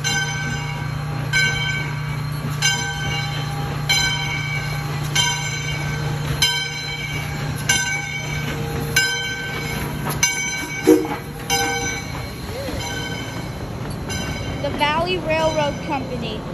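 A Valley Railroad train rolls along the track in Essex, Connecticut, with steady rhythmic wheel clatter and a low rumble, faint squeals and a brief horn-like tone near the end, as people talk nearby.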